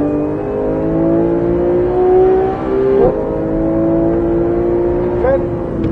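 A Porsche 911 GT3 accelerating hard on a track, its engine note climbing steadily in a loud, close, sustained roar, with a brief shift near the middle and another near the end.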